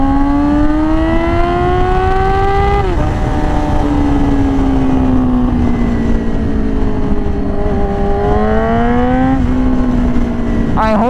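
Yamaha R6 with an insanely loud exhaust, engine revved up and down through its rev range in long rising and falling sweeps, loud and up close, with no voice over it.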